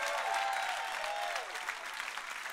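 A church congregation claps hands together in a dense, sustained wash of applause lasting a few seconds, with a faint tonal voice or music line briefly audible underneath.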